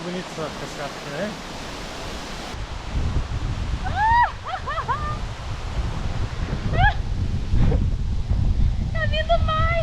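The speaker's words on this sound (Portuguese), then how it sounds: "É muito bonito essa cascata aqui" A waterfall roars as steady broadband rushing, with birds chirping over it and people talking in Portuguese nearby.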